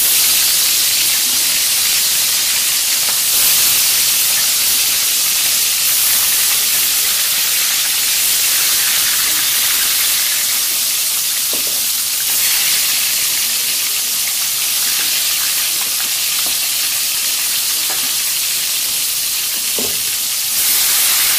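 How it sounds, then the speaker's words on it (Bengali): Coral fish fry in hot oil, giving a loud, constant sizzle and hiss close up, with occasional faint clinks and stirring sounds underneath. "বাকি যে মাছ আছে তাও এইভাবেই ভাজবো।"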